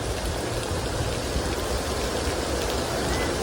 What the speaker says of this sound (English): Oh, you got that heavy rain.